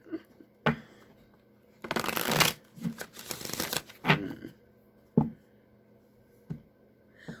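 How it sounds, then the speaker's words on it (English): A deck of tarot cards is riffled and shuffled up close, with a long burst of fluttering snaps and a few sharp taps of the cards squared on a surface. "One more shuffle"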